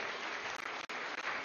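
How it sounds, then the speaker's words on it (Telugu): Audience at a meditation gathering breaks into brief, dense clapping, a steady burst of many hands with a couple of tiny gaps. "వెదర్కి ఒకసారి చప్పట్లు కొట్టండి."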